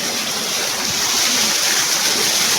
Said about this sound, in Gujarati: તો ફ્રેન્ડ્સ આ એટલું પાણી પડે છે દેખો